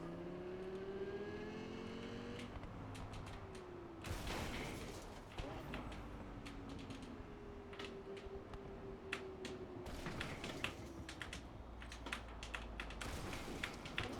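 Car engine in the game Cyberpunk 2077, revving and shifting as it drives, moderately loud and close, with clicking from a keyboard and sharp bumps and crashes scattered through.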